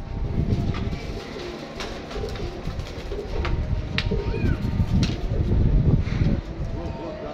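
Pigeons on a rooftop coo over and over in soft, throaty bursts, close and continuous against rustling background noise, with faint human voices now and then.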